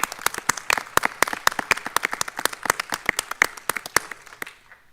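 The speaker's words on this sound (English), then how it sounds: "let's give them a round of applause" An audience applauds award recipients at a Marion County Public Schools board meeting: brisk, crisp clapping from a moderate crowd, steady for about four seconds before thinning out and fading.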